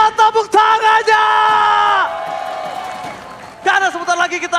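An esports arena crowd at the MPL ID Season 12 playoffs roars and cheers loudly behind a sustained, shouting announcer voice, then settles into a steady, more distant crowd wash before the shouting returns.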